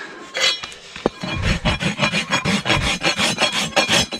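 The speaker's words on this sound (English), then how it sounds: "And I'll show you here in a second with my rasp" A farrier's rasp files a horse's hoof wall in quick, even back-and-forth strokes, a close, rough scraping rhythm with one sharp clink partway through.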